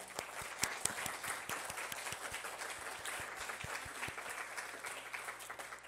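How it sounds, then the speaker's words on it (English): A hall audience gives the judges of a university graduate research talk competition a round of applause, dense steady clapping from many hands held throughout at even strength. "absolutely have to give another round of applause to our judges"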